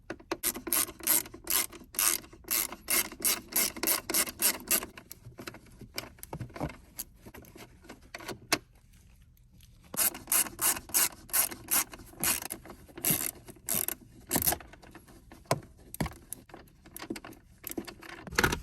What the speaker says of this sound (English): Using a torque screw T20, you can go ahead and unbolt these 2 nuts.